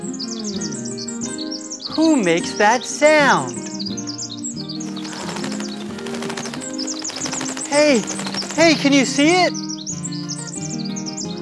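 A bird chirps in quick bursts of bright, rising tweets, close and clear, repeating in clusters while people talk in between.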